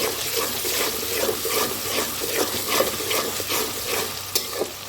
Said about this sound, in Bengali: কিছুক্ষণ এভাবে ভেজে নেব